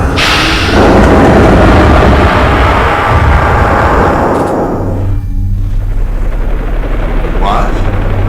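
Helicopter in the Resident Evil Survivor video game, a loud steady rotor roar with low pulsing thump, joined midway by a deeper engine drone that continues to the end; a brief voice sounds over it.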